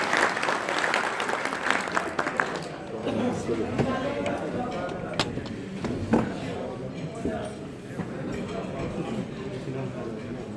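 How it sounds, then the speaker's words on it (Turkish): Applause for a foundation board chairman at a village unity night in Aktepe, a crowd clapping steadily through most of the stretch with voices mixed in and a few sharper claps standing out. "Alkışlar başkanımız için."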